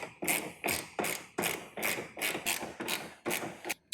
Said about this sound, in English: Probably a good excuse to use my fancy new ratchet.